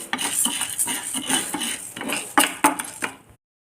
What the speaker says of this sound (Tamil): உளுந்த பருப்பை நல்லா செவக்க வறுத்துக்கிடுவோம்.